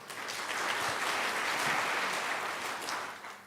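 Steady applause fills a church sanctuary during a Taiwanese-language worship service, a broad wash of clapping from the congregation that swells and holds evenly for a few seconds before tapering slightly at the end.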